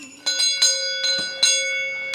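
A cencero bell struck several times in a sparse, uneven pattern, each clear metallic ring sustaining and overlapping the next, close and moderately loud with no voices.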